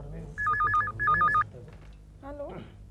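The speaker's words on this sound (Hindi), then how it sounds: "गोखले, मिसेस कुलकर्णी का फोन है" A telephone rings in two bursts of electronic warbling tones at a household setting in a comedy show, followed by a short rising tone, with voices speaking underneath and around it.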